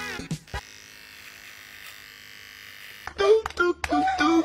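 An electric razor found in lost airport luggage buzzes steadily for a few seconds as a thin, even hum, with a voice talking just before and after it.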